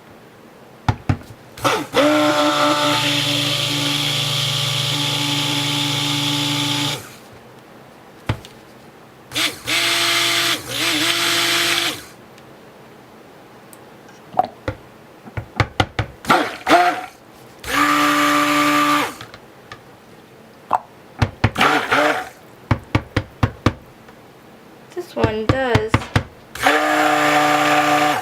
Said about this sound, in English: now I'm going to blend it up with my new stick blender